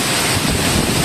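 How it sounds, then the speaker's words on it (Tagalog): Strong typhoon winds of Typhoon Paeng roar steadily across the microphone in the town of Real, a loud, unbroken broadband rush with buffeting low-end gusts and no voices. "At ngayon po ay nananalasa ng hangin ng Bagyong Paeng."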